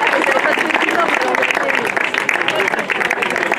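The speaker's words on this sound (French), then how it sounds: "on peut les applaudir encore une fois" A crowd claps for the winners at a 2024 trail race award ceremony. The applause is loud, close and continuous, with a thick, even patter that never lets up.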